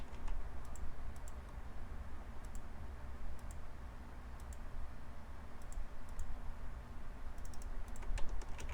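Computer keyboard keys being tapped quietly in short bursts of clicks, scattered presses for shortcut commands like Control N and Control K, over a low background hum.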